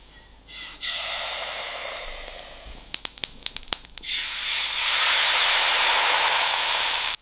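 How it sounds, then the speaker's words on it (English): Fine nozzles in a dosa factory spraying food-grade oil onto the cooking drum, heard as a broad steady hiss that starts, pauses amid a few sharp clicks, then returns louder and sustained. "a row of fine nozzles sprays a microscopic layer of food-grade oil"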